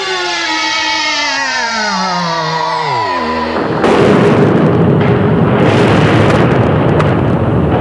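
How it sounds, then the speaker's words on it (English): A firecracker goes off inside a school hallway: a descending whistling tone slides down for a few seconds, then a loud sustained crackling burst of explosions fills the rest, close and harsh. "we don't allow any firecrackers in the school"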